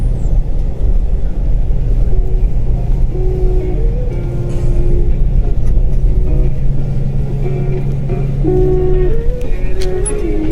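A big off-road vehicle drives across desert sand dunes, its engine a steady close rumble with hum and gear whine that swell and ease slightly as it climbs, running alone without talk.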